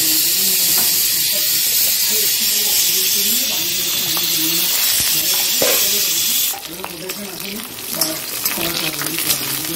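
A pressure cooker holding lentils and mangoes vents steam as a loud, steady broadband hiss for about six seconds before it drops off. A voice is heard faintly underneath.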